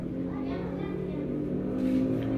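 A motorcycle built on a Satria Lumba or Satria Hiu chassis with a Ninja engine runs through a custom-made exhaust, giving a loud, steady, close engine drone that holds level throughout.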